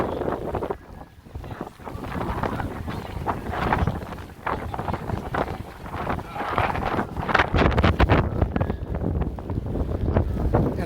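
Wind whips through downtown Chicago during a snowstorm, buffeting the microphone in loud, uneven roaring gusts with brief lulls between the stronger blasts.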